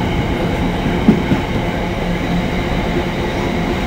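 Class 350 electric multiple unit 350 242 runs through Nuneaton station, a steady rumble of wheels on rail with a couple of brief clanks, fairly close and continuous, with no talk.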